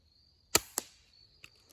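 Suppressed subsonic .22lr rifle firing a 20 grain bullet at 600 feet per second, a single sharp muffled crack followed by a quicker smaller snap, quiet and close against a faint steady whine, then small clicks.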